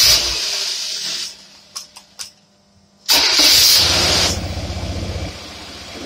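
A car engine fitted with a Holley double pumper carburetor roars loudly, cuts to near silence with a few sputters, then catches again and revs hard before settling into a rough idle.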